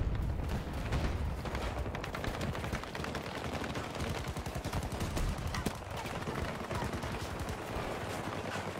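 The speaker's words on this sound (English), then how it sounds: "Minigun." Sustained rapid minigun fire in Battlefield 2042, a dense, continuous rattle of shots that runs loud and unbroken throughout, mixed with other battlefield noise.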